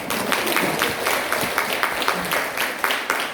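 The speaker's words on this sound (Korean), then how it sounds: "그래서 잘 하시라고 박수 부탁드립니다." An audience at a Korean business leadership seminar applauds, with clearly separated, rhythmic claps standing out over a continuous bed of clapping for a few seconds.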